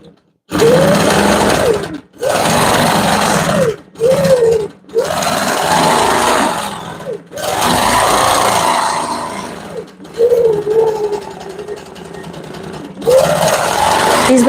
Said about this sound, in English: These bump back feathers also take quite a little bit of practice to follow the lines back